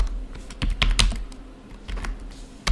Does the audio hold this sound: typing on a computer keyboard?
yes